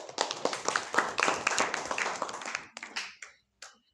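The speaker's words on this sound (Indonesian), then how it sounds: "Silakan beri tepuk tangan yang meriah." Applause from a seventh-grade class audience: a burst of quick, close hand clapping from a small group that thins out into a few scattered claps before stopping.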